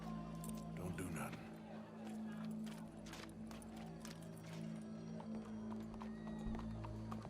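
Horse hooves clip-clop steadily in Red Dead Redemption 2 over a constant low hum, with voices talking over the busy game soundscape.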